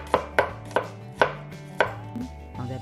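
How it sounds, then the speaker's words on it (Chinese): A kitchen knife slices garlic into thin slices on a board, five or six crisp, evenly spaced chops close by with no voices, then softer scraping. "接下来到我们的蒜，同样切成薄片。"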